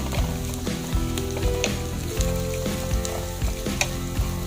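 Dried shrimp fry in a pan, giving a steady close sizzle broken by repeated scraping knocks as they are stirred, with no talk.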